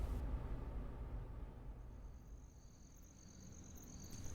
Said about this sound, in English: All that could be heard were the faint sounds of crickets and wind.